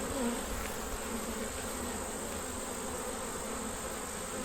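A dense swarm of honeybees drones steadily at an open hive during a frame inspection, a continuous close buzzing with no pauses and no voices.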